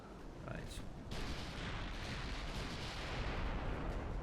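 Naval artillery fire and shell hits against a destroyer in the Ultimate Admiral: Dreadnoughts naval battle game, heavy continuous booming rumble with a sharp impact burst early on, dense and loud throughout.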